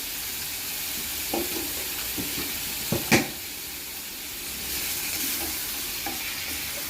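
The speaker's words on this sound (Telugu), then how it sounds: "అంతా ఒకసారి కలబెట్టేసుకోవాలి." A spoon stirring tomato masala curry with turmeric and salt in a pan, a soft continuous sizzle broken by a few light scrapes and one sharper clink, with no talk.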